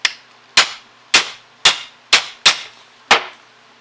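A hammer strikes a steel pin punch to drift a pin out of a Hi-Point pistol, seven sharp metallic clangs at a steady, slightly uneven pace, each ringing briefly before the next, close and loud with no talking.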